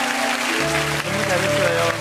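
A church congregation at a special dawn revival service applauding children who just sang, with dense, steady clapping throughout and a voice speaking over it.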